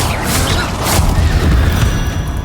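Confringo blasting spell explosion in the Hogwarts Legacy video game, a loud, rumbling boom with crashing debris that fills the whole moment, with no clear talk.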